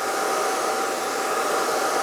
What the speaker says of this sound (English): following behind the comb with the blow dryer